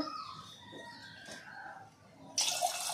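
Water poured into a pot of lentils cooking in a home kitchen, a steady broadband rush that starts abruptly near the end and continues fairly close and loud, with birds and rooster-like calls faint in the background before it.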